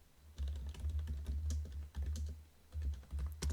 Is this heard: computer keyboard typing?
yes